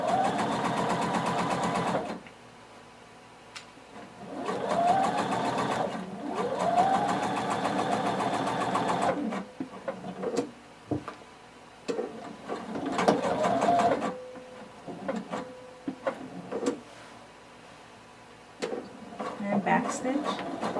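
A sewing machine sews a curved seam on shorts or pants, running in several loud bursts of a few seconds each with pauses between, broken by short stop-start stitching and handling clicks, with a voice speaking in the gaps.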